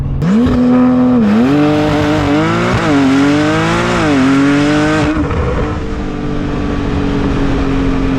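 Porsche 992 Turbo S launching hard, its engine note climbing and dropping through quick gear changes, loud and close, then settling into a steady high drone as the car keeps pulling.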